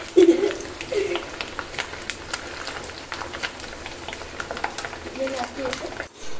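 Paneer fries in hot oil, a continuous crackling sizzle with scattered pops, close and moderately loud, while people talk over it.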